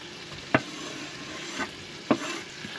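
Red beans and rice are stirred in a Dutch oven with two sharp scraping knocks of the spoon and a few softer scrapes, all over a quiet, steady sizzle with no talking.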